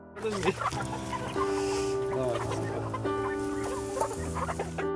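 Several chickens cluck and chatter together nearby while being fed in a village, a busy, continuous flock noise with occasional louder squawks.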